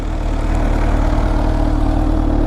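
A Kawasaki H2 SX supercharged motorcycle idles with a steady, loud, low throbbing rumble that holds an even pitch throughout, up close with no voices.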